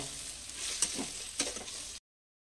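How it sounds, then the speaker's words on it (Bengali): Chopped onion, green peas, cashews and raisins sizzle in a pan for pulao, a soft continuous fry broken by two brief stirring scrapes before the sound cuts off abruptly. "আবারও ভালো করে একটু ভেজে নেব"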